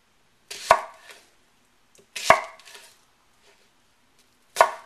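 A knife chops an onion on a board into a medium dice: three separate bursts of close, crisp chopping strokes with quiet pauses between them.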